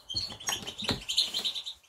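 A pet goldfinch gives quick high chirps and twitters in a steady close burst, with no voices.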